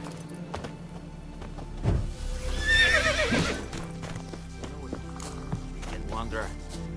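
Roach the horse in The Witcher 3 gives a short whinny amid clip-clopping hooves, with in-game voices speaking around it and quiet ambient sound underneath.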